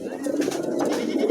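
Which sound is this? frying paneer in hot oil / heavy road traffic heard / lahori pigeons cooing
lahori pigeons cooing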